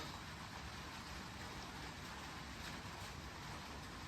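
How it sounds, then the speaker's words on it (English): Steady rain patters continuously as a dense, even hiss, with no voices and no change in intensity throughout. "Y'all might be able to hear it's raining."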